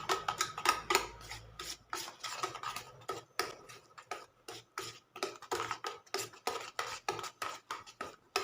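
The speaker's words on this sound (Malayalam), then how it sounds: "ഇതിലോട്ട് 1/2 കപ്പ് മൈദ ചേർത്ത് മിക്സ് ചെയ്യാം." Maida flour is mixed into rava cake batter in a bowl, a steady rhythmic scraping and tapping of a spoon or whisk against the bowl, close and moderately quiet, with no talk.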